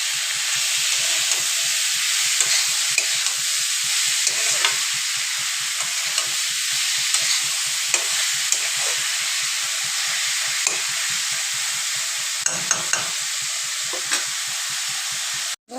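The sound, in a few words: cabbage being stir-fried in a pan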